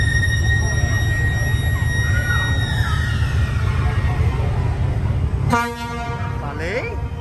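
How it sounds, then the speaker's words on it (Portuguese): A loud, low boat siren blares out abruptly in the Barra Bonita lock after several seconds of steady engine rumble and a fading high tone, holding briefly before dropping away. "Agora a gente vai tocar uma sirene"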